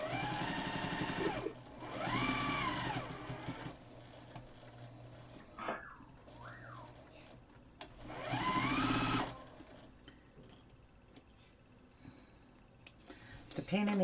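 Sewing machine stitching quilt pieces together outdoors, two rapid whirring bursts of about two seconds each, separated by quieter handling sounds, with a brief whistle-like tone between them.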